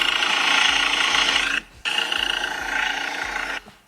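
A faulty car engine knocks with a fast, regular metallic rattle like a worn connecting rod, loud and close, pausing briefly then continuing before fading out.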